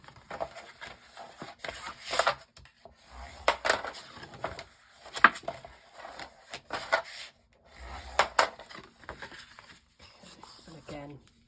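Scored paper for a flip book being folded and burnished, repeated close rubbing and scraping strokes in uneven bursts with pauses between them.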